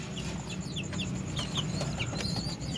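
Parent pigeons feed their young at night while the chicks give high, squeaky chirps in short bursts, with soft clucking murmurs and faint background noise around them.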